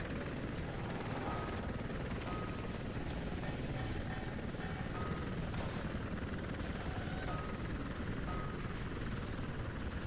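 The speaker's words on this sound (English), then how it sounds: "Where's this helicopter at?" A helicopter in the F.E.A.R. 2 Project Origin video game, its rotor and engine making a steady, dense drone that holds at an even level throughout with no voices over it.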